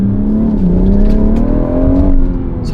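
BMW M140i with a B58 engine pulling hard under acceleration, a loud continuous growl climbing in pitch, dipping briefly and rising again, heard up close from the cabin.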